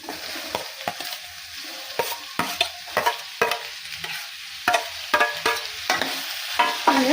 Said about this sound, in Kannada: ಈಗ ಟಮಾಟಿನ ಹಾಕಿ ಚೆನ್ನಾಗಿ ಫ್ರೈ ಮಾಡ್ತೇನೆ